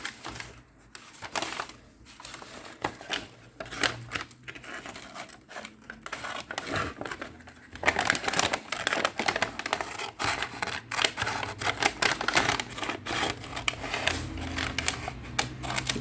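Scissors cutting folded paper from the top down to a drawn line, a close series of irregular snips and crisp paper rustles, growing denser and louder partway through.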